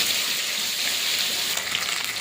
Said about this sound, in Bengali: কড়াইটা বসে মাছগুলো ভেজে নেব